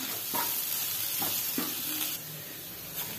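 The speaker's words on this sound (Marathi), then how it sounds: "बेसन टाकून आपण छान याला फिरून घेऊया" Gram flour is stirred into a spiced mixture frying in a pan, giving a low steady sizzle with several short scraping strokes of the spoon, close and fairly quiet, with no talking.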